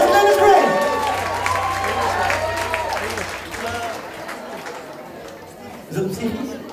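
A concert audience applauds and cheers as a singer is welcomed on stage: a broad wash of clapping mixed with whoops and crowd chatter, loud at first and easing off, with a voice rising near the end.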